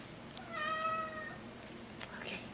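A cat gives a drawn-out meow close by indoors during a meal at home, followed by faint rustling and a brief soft voice.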